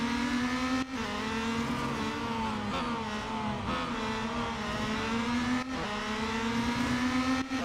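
Race car engine in the Real Racing 3 mobile game holding a loud, steady high-revving drone with slight pitch rises and dips and brief gear-change cuts, without talking.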